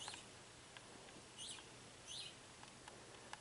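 A bird calling near a bird feeder, faint chirps repeating a few times at a distance over quiet background hiss.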